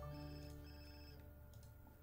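A telephone ringtone in The Sims 4 plays faintly against steady game music and ambience, with sustained tonal notes over the full stretch and no voices.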